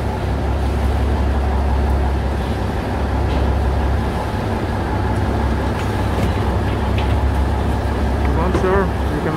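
A Bangkok river taxi boat engine drones steadily and loudly throughout, with a low rumble and water noise, while voices talk faintly in the background.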